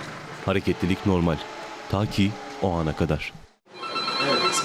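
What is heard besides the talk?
alarm bell ringing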